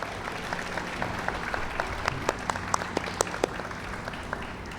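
Steady applause from a crowd at a ribbon cutting for the Damen Green Line station, many hands clapping continuously with a few sharper claps standing out, fairly close and sustained throughout.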